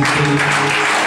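Crowd applause at a church night of worship, greeting the worship team: a brief, loud, dense burst of clapping with a faint tonal backing underneath.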